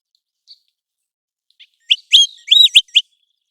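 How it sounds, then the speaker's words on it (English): American golden plover calling in a few clear, close whistled notes, a short burst of bright chirping phrases against otherwise silent surroundings. "When the American golden plover is in flight, it often emits a soft, whistling call that sounds like a clear queet or kleeu."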